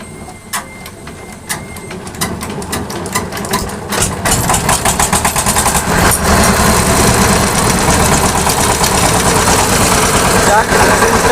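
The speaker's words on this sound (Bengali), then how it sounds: "মেশিন স্টার্ট হয়ে গেছে, মেশিনের সাউন্ড কোয়ালিটিও ভালো আছে" A diesel engine, refitted with a new cylinder head, is cranked and catches, then settles into a loud, steady, rapid knocking idle that builds in the second half.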